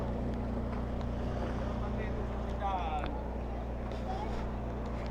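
A boat's motor drones steadily in the background on typhoon floodwaters, faint and distant, with a few brief chirps and calls over it.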